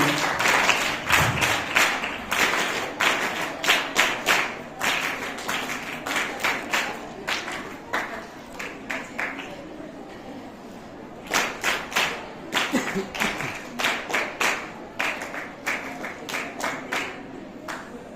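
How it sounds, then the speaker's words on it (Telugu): Audience applause at a district youth services state-level artists' selection award event, a dense crowd of hands clapping in repeated bursts with brief lulls, fairly near and steady, no talk. "ఫస్ట్ ప్రైజ్ కావాలి అనుకున్న వాళ్ళందరూ చప్పట్లు కొడతా ఉన్నారు."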